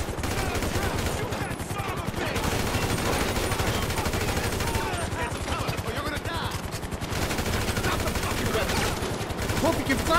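Rapid bursts of automatic gunfire in GTA V, dense rattling volleys that come and go across the clip, mixed with game noise.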